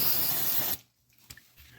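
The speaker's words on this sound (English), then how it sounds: "spray down this area with some brake cleaner if there's any oil running everywhere" Brake cleaner from an aerosol can hisses in one steady, close spray onto a Polaris General UTV engine, then cuts off abruptly. A few faint handling clicks follow in near-quiet.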